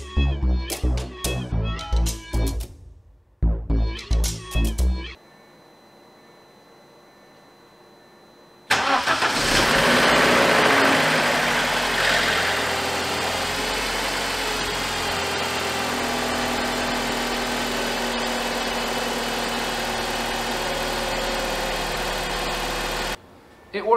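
Rapid mechanical clattering bursts stop, then after a quiet pause a BMW N46 engine cranks, catches and settles into a steady idle, close by.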